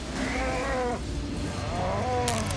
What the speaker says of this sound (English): They layered in a slowed-down cow call for the sound,